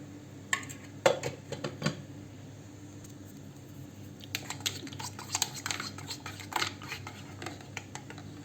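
A spoon clinks and scrapes against a cup while stirring milky Turkish coffee, giving a few sharp taps early on, then a denser run of light metallic clicks and swirls over a steady low appliance hum.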